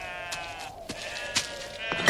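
Sheep bleat in short, wavering cries, several calls overlapping at moderate distance with no talking.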